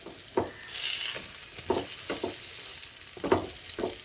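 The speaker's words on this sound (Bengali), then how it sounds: "এইভাবে লো টু মিডিয়াম ফ্লেমে বেগুনগুলোকে ভেজে নেব।" Spiced brinjal slices fry in hot oil over a low-to-medium flame, giving a steady broad sizzle with several distinct spatters and stirring clicks breaking through at irregular moments; close and moderately loud, with no voices.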